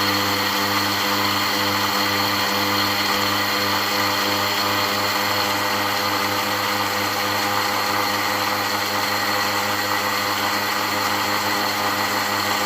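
An electric grinder whirs steadily and loudly as it grinds garam masala spices, a constant motor drone with no change in pitch and no talking.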